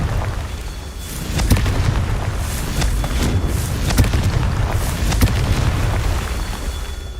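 Repeated rumbling fire-spell explosions from the Confringo spell in Hogwarts Legacy, a dense roaring wash of booms and crackles with a few sharper bursts, loud and continuous.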